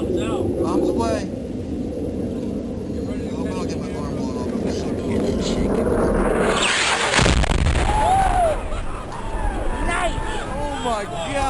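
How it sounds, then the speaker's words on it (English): Guided bomb exploding in a nighttime air strike on a village: a broad blast bursts out amid ongoing aircraft rumble and radio chatter, with voices talking around it before and after the impact. "A guided bomb fell out of the darkness, racing towards the village below."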